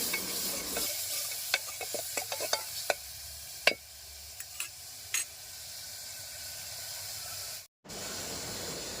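Ginger-garlic-cumin paste fries in a pan with a continuous close hiss and sizzle, broken by a run of sharp spoon taps and scrapes, then a brief dropout near the end.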